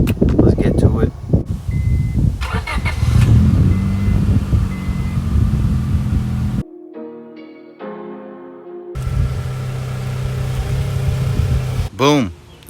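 A Honda Civic EM2 is driven along, its engine hum mixed with heavy wind rush. The cabin noise drops out briefly partway through, then resumes, ending with a short sharp chirp.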